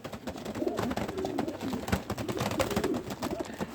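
Racing pigeons from a Kolkata racing club coo softly in low, murmuring bursts close by, with a busy rustle of the loft around them and no talk.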